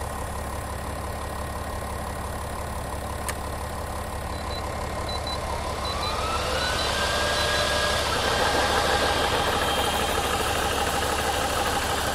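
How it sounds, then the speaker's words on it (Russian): An air compressor runs steadily to fill an air rifle, a continuous mechanical drone whose pitch rises and strengthens partway through, heard close with no talk. "Компрессор поехал"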